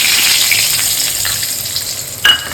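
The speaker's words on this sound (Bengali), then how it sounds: "এখন দারচিনি, জিরা, তেজপাতা দিয়ে দিচ্ছি।" Cinnamon, cumin and bay leaf hit hot oil in a pan, giving a loud, steady sizzle that crackles on throughout, with a sharp burst of spitting near the end.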